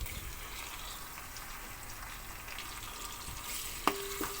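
Tomato and mixed vegetables hiss and crackle in a hot pan for veg noodles, a steady broadband sizzle throughout with a brief clink of a utensil near the end.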